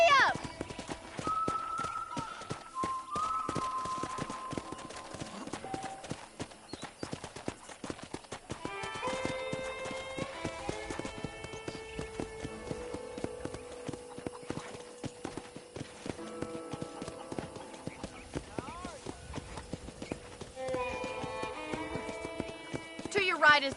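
Rhythmic clip-clop of horse hooves running steadily in the video game Red Dead Redemption, with a horse whinnying and background music throughout.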